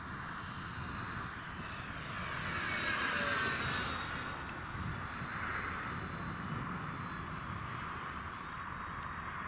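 An Arrows Hobby F8F Bearcat 1100mm RC warbird, a US Navy fighter model, makes low banking passes, its electric motor droning steadily with a faint rising whine as it sweeps by against outdoor wind noise.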